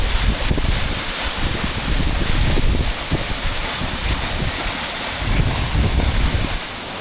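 Beehive Falls, a waterfall in the Grampians of Victoria, gives a steady, loud roar of falling and splashing water across the whole clip, with rumbling wind buffeting the microphone and no voices.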